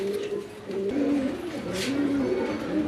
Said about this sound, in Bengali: এখানে একজন অসাধারণ গিয়াচলি কবুতর আছে